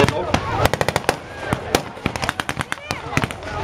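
Rapid gunfire from a tank turret machine gun during a WWII battle re-enactment at an outdoor show, with many sharp reports in irregular bursts, some echoing, over crowd and engine noise.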